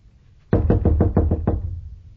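Six firm, evenly spaced knocks land on a locked wooden door, heavy and close, followed by a brief fading resonance.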